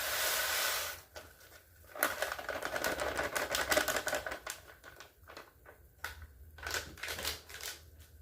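Dry rice poured into a pot of water at a rolling boil makes a dense rattling patter in uneven bursts, close and fairly soft, with brief pauses between pours.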